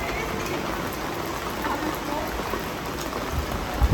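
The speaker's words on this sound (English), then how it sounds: "Hopefully it stops raining soon." Rain falls steadily in Vienna, making a constant wash of close, even patter across the whole stretch, with a couple of heavier knocks near the end.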